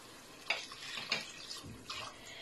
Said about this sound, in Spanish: Y ahora le voy a poner agua.